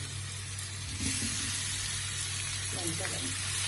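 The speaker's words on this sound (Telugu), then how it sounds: "చాలు ఇలా వేగితే చాలు మళ్ళీ మగ్గిపోతాయి అన్నమాట" Ivy gourd pieces sizzle steadily in an oiled pan for onion curry, a soft continuous frying hiss with light stirring clatter, fairly faint against a low background hum.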